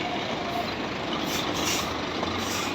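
A truck backing up a ramp gives a steady, loud engine rumble with air-brake hiss, close and continuous with no voices.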